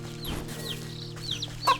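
Chickens clucking on a farm in the video game Wytchwood, a few short, faint cackling calls over a steady low game hum, with one sharper cluck near the end.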